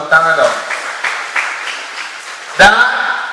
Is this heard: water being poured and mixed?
no